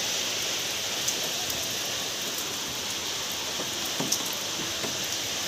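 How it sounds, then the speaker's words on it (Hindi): Heavy, steady rain pours down in Ghatshila, falling in intermittent bursts, a dense even hiss with a few sharper drip taps close by, and no voices. "इधर कितनी तेज़ बारिश हो रही,"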